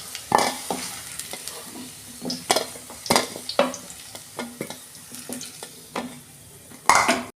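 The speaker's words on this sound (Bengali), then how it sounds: "এটা আমি সাদা তেলে করছি আলুটাকে একটু ভেজে আমি তুলে নেব" Potatoes frying in white oil, a close sizzle broken by repeated loud scrapes and clanks of a spatula or slotted spoon against the pan as pieces are turned and lifted.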